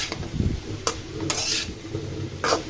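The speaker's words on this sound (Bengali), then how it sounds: "সুন্দর মতো তেলের সাথে নাড়াচাড়া করে মিশিয়ে দিব" Snake gourd (chichinga) being stirred in oil in a pan, with a few sharp metallic scrapes and clinks of the utensil against the pan over a soft steady sizzle.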